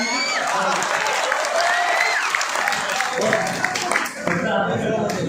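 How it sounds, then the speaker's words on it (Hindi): Applause from the audience at an All India mushaira poetry gathering in Bijnor, a steady wash of clapping from the crowd with a voice reciting over it. "मिलके ताली बजा"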